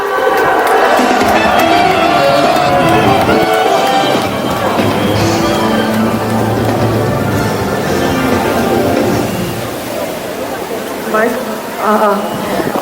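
Rally crowd at a joint opposition-party political gathering in Seoul cheering and clapping loudly, a dense continuous roar that tapers slightly near the end, with a few voices calling out over it.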